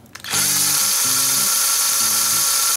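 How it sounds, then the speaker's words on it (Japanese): An electric drill whirs steadily and loudly after a brief start, its motor pitch stepping up and down while it winds fishing line onto a spinning reel spool. "これドリルが結構今遅いけど、もっと速いドリルならもっと速いと思"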